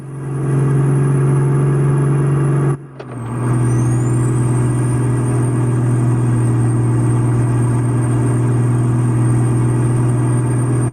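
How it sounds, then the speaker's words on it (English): In American Truck Simulator, a loud custom Cat 3412 V12 truck engine drones steadily, briefly cuts out, then a rising whine as turbos spool up over the continued low rumble. "You just feel like the engine's working when you can hear those turbos spooling up."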